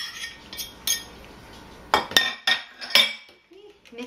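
A utensil folds banana into protein pancake batter in a bowl, giving a few scattered clinks and taps against the bowl, close and fairly quiet, with brief pauses between strokes.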